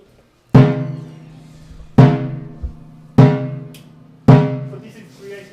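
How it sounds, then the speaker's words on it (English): Four deep timpani strokes, each a sharp booming attack that rings and decays slowly, spaced about a second and a half apart, heard alone and close. "And if you hit the timpani"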